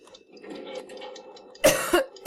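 A sick person coughs several times, sharp and close, after a quiet stretch of low background murmur.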